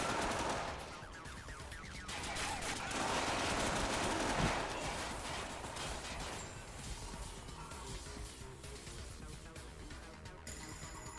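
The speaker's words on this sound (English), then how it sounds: "You now have a machine gun." Rapid machine gun fire in a third-person shooter game, a dense sustained rattle of automatic shots mixed with clattering impacts and game effects, loud and continuous throughout with no voices.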